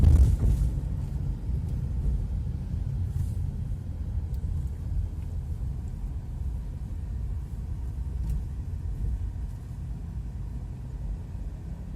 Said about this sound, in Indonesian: suara mesin agak masuk ke dalam kabin.